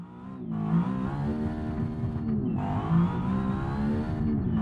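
Race car engine in the BeamNG driving game revving hard with a rising, sustained whine, dipping briefly as it shifts or lifts before climbing again, loud and continuous with no talk.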